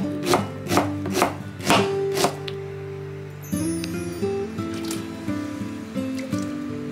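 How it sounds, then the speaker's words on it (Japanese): Onion being thinly sliced with a knife on a board, about five sharp, evenly spaced cuts up front, then softer, quicker slicing with light rustling, close and clear. "玉ねぎは薄切りにします。"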